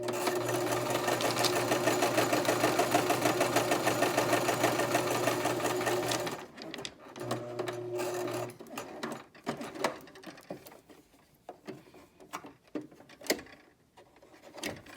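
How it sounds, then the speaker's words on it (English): A Brother LX2375 sewing machine stitches a buttonhole with a steady, fast rhythmic whir for several seconds. It then stops and gives a few shorter bursts among scattered clicks and handling noises. "I'm going to stitch all the way down to the bottom of my line."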